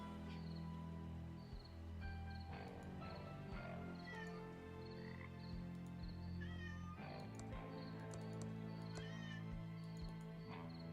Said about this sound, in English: my cat comes into the stream, screaming away